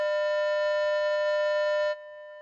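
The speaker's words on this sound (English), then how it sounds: "this tone is two sources at 200 hertz" Two electronic tones, each at 200 hertz, sound together as one steady pure buzzing hum, unwavering and clean for about two seconds before cutting off abruptly.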